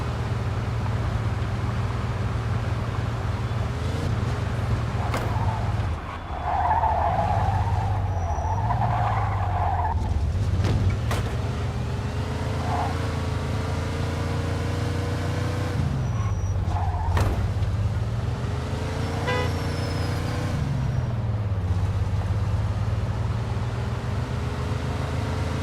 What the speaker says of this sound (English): In pursuit of a speeding vehicle.